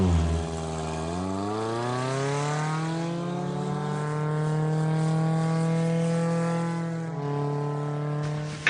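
A Radical SR3 race car with a turbo accelerates hard, its engine howling steadily upward through the revs, loud and close, with a gear change partway and a final climb near the end.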